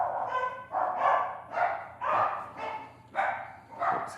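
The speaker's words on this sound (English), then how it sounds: "I shall ignore these very loud dogs." Several dogs bark loudly close by, about eight sharp barks in quick, uneven succession with no talking.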